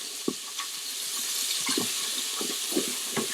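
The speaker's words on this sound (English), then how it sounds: "add just a smidgen of your beef broth in there" Beef broth is poured into a hot pan to deglaze it, giving a soft, steady wash of liquid with faint sizzling and a few light clinks.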